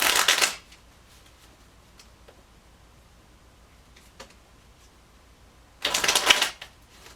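Two quick bursts of tarot cards being riffled, one at the start and one near the end, separated by a quiet stretch with faint taps.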